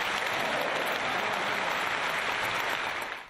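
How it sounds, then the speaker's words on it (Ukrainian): Dense applause from a large crowd giving a standing ovation, a continuous roar of many clapping hands that holds steady, then begins to taper off at the end. "Словам народної артистки аплодують стоячи."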